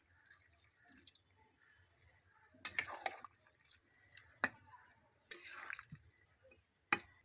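Water goes into a pan of frying vegetables and shrimp, heard as a few brief, quiet splashes and drips separated by near silence.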